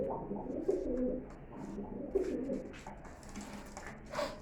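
Pigeons cooing at a pigeon farm, a steady bed of low, soft coos rolling continuously at close range, with faint rustles and higher chirps scattered over the top.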